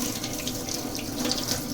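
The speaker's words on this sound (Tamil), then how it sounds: "இப்போ வந்து நம்ம கிரைண்டரெல்லாம் எடுத்து க்ளீன் பண்ணுறோம். இந்த தண்ணிலாம் போட்டு வாஷ் பண்ணுறோம் பாருங்கள்" Water from a tap splashes steadily into a sink as a wet grinder is rinsed out, a continuous close wash with no pauses and no voices.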